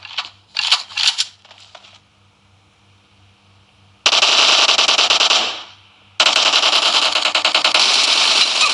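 Automatic gunfire in PUBG Mobile on a Moto G9 phone: a few short early bursts, then two long loud sustained volleys close up, the first tapering off before the second begins.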